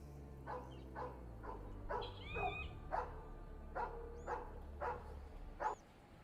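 A played sound effect of dogs barking in the distance sets a tabletop role-playing scene in tall grass: a rhythmic series of faint barks and yips about once a second over a low droning background.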